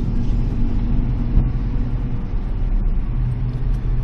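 Cammed LS-swapped C10 truck driving, its engine giving a deep, steady, lumpy rumble heard from inside the cab through an open window, loud and constant.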